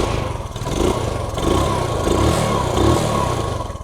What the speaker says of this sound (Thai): เดี๋ยวจะติดเครื่องให้ดูนะครับ ดูอาการนะครับไม่เรียบนะครับ